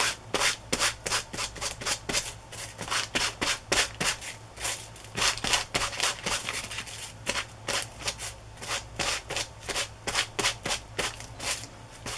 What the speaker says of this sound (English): I'm going to take my um, archival ink and just rub it on here